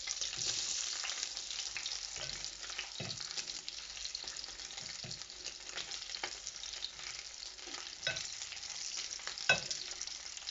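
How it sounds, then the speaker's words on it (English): Pork belly sizzles and crackles steadily in a hot pan, with occasional louder pops and scraping stirs over the continuous frying hiss. "Love the sizzle."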